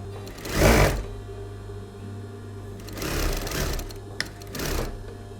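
A sewing machine hemming the diagonal edges of a man's shirt being made into a halter neck dress, running in a few short bursts of rapid stitching with pauses between.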